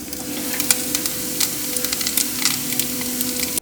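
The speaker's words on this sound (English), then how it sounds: "if you hear a little bit of popping in the background, I'm making fish sticks" Fish sticks frying in a pan sizzle steadily throughout, with scattered sharp pops and crackles rising above the constant hiss and a faint background hum.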